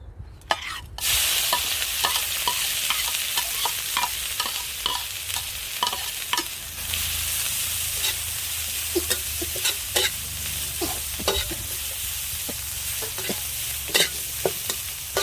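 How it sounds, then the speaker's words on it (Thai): Chilies stir-fry in pork lard, a loud continuous sizzle close by with frequent sharp scrapes and clacks of a utensil against the pan throughout. "ใส่น้ำมัน นิดหน่อยค่ะ น้ำมันหมูนะคะ แล้วคุณยายก็จะใส่พริกเลยค่ะ"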